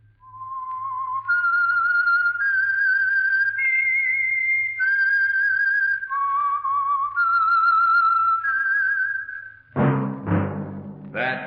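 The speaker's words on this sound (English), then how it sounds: "That whistle is your signal for the Signal Oil Program, The Whistler." A clear, melodic theme whistle from The Whistler radio show, sponsored by Signal Oil, carries a wavering tune for nearly ten seconds over a low hum, then ends with a burst of orchestral music.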